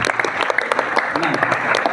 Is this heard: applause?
yes